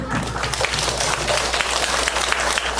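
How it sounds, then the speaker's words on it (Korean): A lecture audience of students at a cognitive behavioral instructor course gives a dense burst of hand clapping, steady and even for nearly three seconds, heard alone without speech. "박수"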